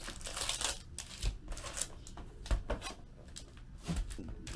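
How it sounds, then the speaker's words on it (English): A box of 2016 Upper Deck Marvel Masterpieces trading card packs is torn open and handled, giving bursts of crinkling foil wrappers, cardboard scraping and tearing, close and fairly loud. "let's pop open the box and number the packs"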